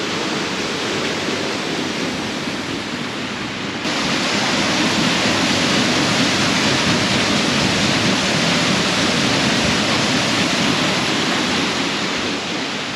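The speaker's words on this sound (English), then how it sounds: "Also a water mill behind closed doors." Water pours and rushes steadily at a water mill in the Black Forest of southern Germany, a loud, dense, unbroken roar that swells slightly after a few seconds and holds constant.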